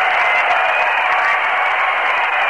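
A packed stadium crowd roars as the Mets clinch the National League pennant against the Atlanta Braves with Nolan Ryan pitching, fans pouring onto the field; a loud, unbroken wall of cheering holds steady throughout.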